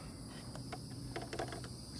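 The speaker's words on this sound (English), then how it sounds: "Now I hear the bugs coming back." Outdoor crickets and other bugs chirp in a faint, steady background, with a few slightly louder chirps standing out near the middle.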